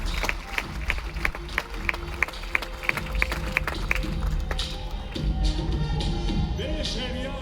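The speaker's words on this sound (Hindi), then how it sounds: "तालियां जोरदार होनी चाहिए दोस्तों।" An audience at a business success seminar claps along in a quick, even rhythm, and the clapping grows looser and more scattered as a room full of voices and sound rises beneath it.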